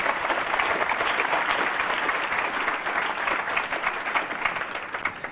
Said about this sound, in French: Christian Streff, je vous demande de l'applaudir encore une fois